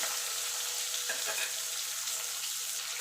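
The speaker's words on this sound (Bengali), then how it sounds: "আলুটা একটুখানি তেলের সঙ্গে ভালো করে নাড়াচাড়া করে নেবো, যাতে আলুটা একটুখানি ভাজা ভাজা হয়ে যায়।" Potatoes frying in oil make a loud, steady hiss close by, with a brief stirring scrape near the middle.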